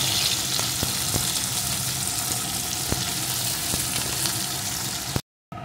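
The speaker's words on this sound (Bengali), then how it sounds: "মাছগুলো আমি এপিট ওপিট একটু ভেজে নিয়েছি" Fish pieces shallow-frying in hot oil give a steady, loud broadband sizzle with a few scattered pops and utensil taps, cut by a brief dropout near the end.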